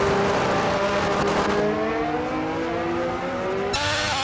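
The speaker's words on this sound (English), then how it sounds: "Up through the castle section goes the Ferrari." Ferrari race car engine roaring loudly through the castle section of the Baku street circuit in a racing video game, its steady high pitch rising and shifting as the car holds a gear, close and continuous.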